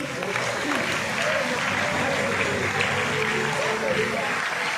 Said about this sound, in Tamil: கரவொலி தொடர்கிறது